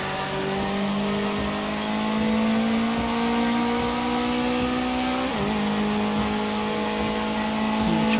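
Race car engine in the racing video game Project CARS 2, a loud sustained drone holding steady revs with a brief dip mid-way before climbing again, heard alone without talk.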